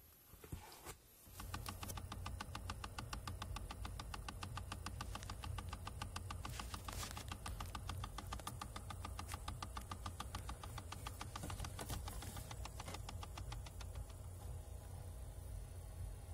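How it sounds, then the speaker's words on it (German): Heater flap actuator motor in a Hyundai Tucson, faulty, giving a rapid, steady train of small clicks and knocks for about fifteen seconds inside the car, fairly quiet, with no talking. "wenn ich dann wieder drauf tippe und der Motor sich wieder in die andere Richtung dreht, dann knackt es wieder"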